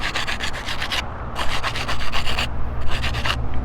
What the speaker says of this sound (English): You'd be surprised what you could do with some sandpaper. It comes off pretty quick.